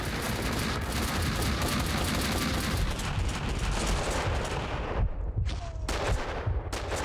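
Gunfire aimed at the player in Max Payne 2, a dense, continuous barrage of shots filling the scene, loud and close, breaking into a few separate cracks near the end.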